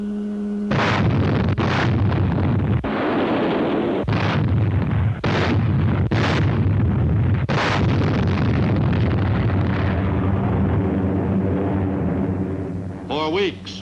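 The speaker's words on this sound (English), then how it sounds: "On January 29th, the warships began their softening up of Kwajalein Atoll." Naval shelling of Kwajalein Atoll by warships in an old wartime newsreel: a rapid series of deep, booming gun blasts, roughly eight in fourteen seconds, loud and close over a heavy rumble, with a narrator talking throughout.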